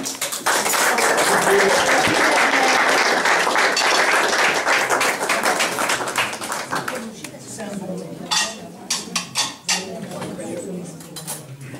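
An audience applauds in a dense burst of clapping that fades after several seconds into scattered claps, with voices talking over and after it.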